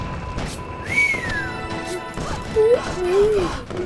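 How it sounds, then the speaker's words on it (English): Whistles from the Battle Ages strategy game amid battle noise with cavalry and infantry units: a rising-falling whistle early, then two shorter sliding whistle tones near the end, over a steady busy game soundscape. "The exasperation whistle."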